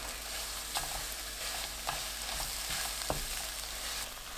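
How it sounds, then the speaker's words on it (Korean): Steady sizzling of eggs stir-frying in a hot pan, with a few sharp scrapes and clicks of a spatula as they are broken up and stirred, close and continuous. "덩어리가 되면 큼직하게 나누어 볶아냅니다"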